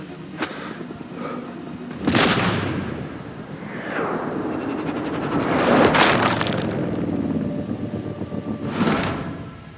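Sniper rifle fire with EMP rounds in the video game Sniper Ghost Warrior Contracts 2: three sharp, loud shots spread across the stretch, each with a ringing tail, over a steady game ambience.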